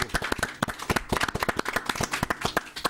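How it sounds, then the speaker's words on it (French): A small group claps for a continental champion in a sports news studio, crisp individual handclaps close to the microphone in a quick, uneven patter that continues throughout. "applaudissements s'il vous plaît"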